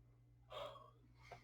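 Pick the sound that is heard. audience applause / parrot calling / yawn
yawn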